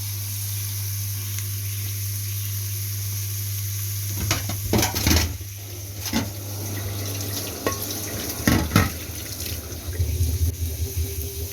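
Chopped onion and carrot frying in a pan, a steady sizzle with bursts of stirring and scraping, and a low background hum throughout, no talking.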